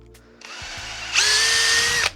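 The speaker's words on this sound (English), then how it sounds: "widen the holes a little bit to give us a little more clearance" A power drill widens holes in pine wood, whirring briefly at lower load, then biting in with a louder, higher steady whine for about a second before stopping, close up and with no talk.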